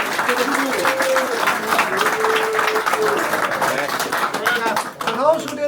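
Club members applauding at a meeting held in a host's home in Topsfield, Massachusetts; a crowd claps steadily throughout while voices chatter and call out over it.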